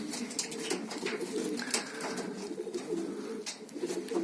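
Homing pigeons coo softly and repeatedly, a low rolling murmur with some fluttering and scattered background noises.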